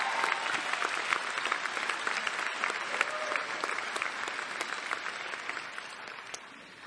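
Steady, full applause from a large audience fills a law school graduation ceremony, dense clapping held at an even level throughout with no voices over it.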